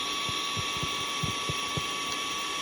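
An electric air pump inflating a boat: a steady motor whine with a high tonal hum, broken by soft low thumps at an uneven pace, close by and with no talking.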